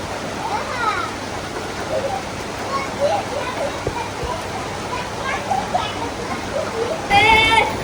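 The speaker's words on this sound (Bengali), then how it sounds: "বৃষ্টি শুরু হয়ে গেছে, বৃষ্টি।" Steady rain hisses over a paddy field as a broad, even wash of sound, with a person speaking briefly on top and a voice near the end.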